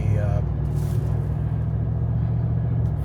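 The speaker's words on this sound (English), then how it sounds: "You hear the wind. That's not normal." Low, steady wind rumble from a storm roars into the microphone, heavy and continuous, with a voice briefly at the start.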